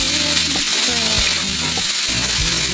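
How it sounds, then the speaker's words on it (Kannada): Tomatoes frying in oil in a pan, giving a steady loud sizzle with a few brief scrapes and stirring knocks breaking through it. "ಎಣ್ಣೆ ಹಾಕಿ ಇದು ಪೂರ ಕೆಂಪು ಆಗತ್ತಲ್ಲ ಹುರ್ಕೋಬೇಕು."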